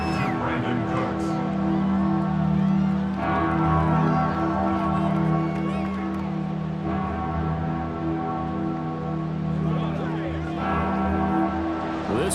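Dense stadium crowd roar and cheering in the Madden 24 football video game, a continuous loud wash of many voices swelling slightly, with a commentator talking over it.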